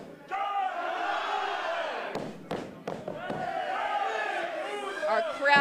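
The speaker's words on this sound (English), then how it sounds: "the crowd erupts here in the Bootleg Theater" A wrestling crowd at the Bootleg Theater in downtown Los Angeles roars at a Bar Wrestling intergender tag match, sustained cheering broken by a few sharp slams and thuds, loud and close.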